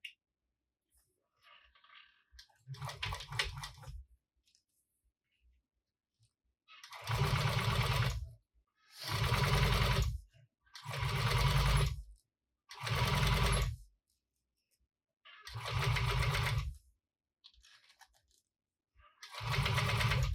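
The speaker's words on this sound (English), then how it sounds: "we're gonna top stitch this at an 1/8 of an inch seam allowance" A sewing machine top-stitches a fabric shoulder bag, running in six or so bursts of steady whirring stitching, each a second or two long, separated by quiet pauses with faint handling.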